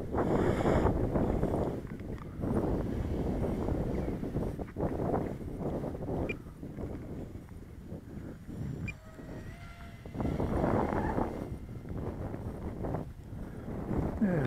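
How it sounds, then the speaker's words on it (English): A steady wind blows across an open field, rumbling against the microphone in long gusty surges that rise and fall over the whole stretch, with no voices. "So the wind's quite constant today, at about 8."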